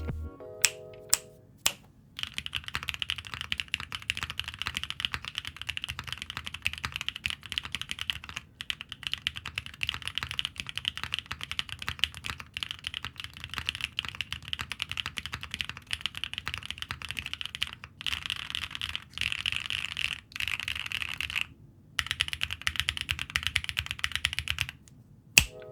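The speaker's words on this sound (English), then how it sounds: "let's take a listen to these switches, which are factory lubed in my normal test setup" Factory-lubed BSUN Aniya switches on a mechanical keyboard, typed on continuously at a steady, fairly fast pace, with clicky close-up keystrokes and a few brief pauses, no talking.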